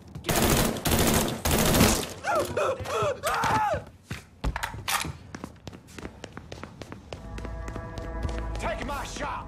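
Bursts of rapid gunfire from the Mafia 3 video game crackle loudly in quick volleys, mixed with single shots and thuds, while a voice yells and talks over the action.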